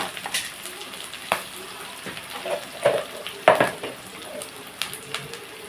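Onions frying in a pan with ginger-garlic paste, a soft continuous sizzle broken by a few sharp clinks and scrapes of a spoon against the pan, no voices.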